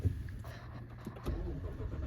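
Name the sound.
Lexus GX460 engine starting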